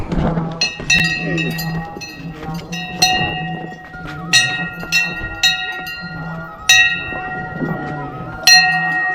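A metal temple bell is struck repeatedly at uneven intervals, each ring bright and lingering, over a busy background of voices and footsteps.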